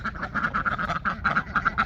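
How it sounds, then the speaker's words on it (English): Ducks quack in a steady run of loud, close calls on a farmyard, overlapping one another with no pauses. "Are you picking on my ducks?"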